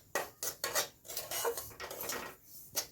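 Semolina roasting in a pan for a milky suji sweet, heard as a series of dry scraping and rasping spatula strokes in uneven bursts, close and moderately loud, with short pauses between.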